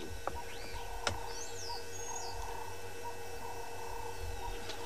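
Doves give soft, musical calls in the background of a wildlife setting where lion cubs play, faint and intermittent over steady ambient hiss with a few sharp clicks.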